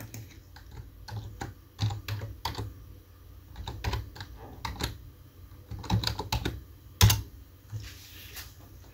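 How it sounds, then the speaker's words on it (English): A password is typed on a computer keyboard: a run of crisp, close key clicks in irregular bursts, with short pauses between groups of keystrokes and one heavier tap near the end, no talking. "So let's go ahead and put in our password."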